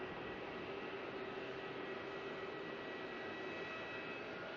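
Steady broadband jet roar from a Boeing 737-700 at Melbourne Airport, a continuous, even wash of engine noise with a faint whine, distant to moderate and unbroken, with no talk.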